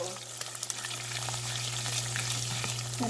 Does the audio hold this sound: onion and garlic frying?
yes